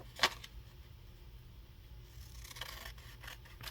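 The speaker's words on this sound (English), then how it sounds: "So I'm going to go ahead and just trim this down" Scissors snip paper while a junk journal map page is trimmed, one sharp close cut followed by a few softer cuts and rustles over a quiet background.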